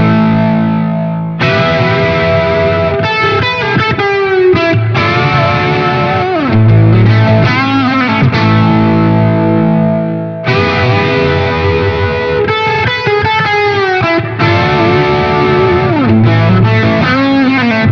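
An electric guitar plays a DGT in split-coil mode set to the bridge position, loud and driven with distortion and effects, strumming chords and picking lines continuously with a brief pause midway.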